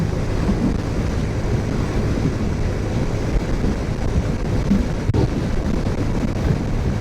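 Strong wind buffets a motorcycle-mounted microphone while riding in Georgetown, a constant loud rumble, dense and low, with no voices.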